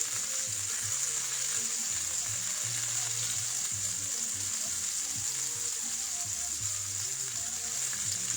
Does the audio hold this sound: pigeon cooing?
no